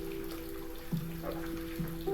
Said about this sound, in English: You just see here that rain out there.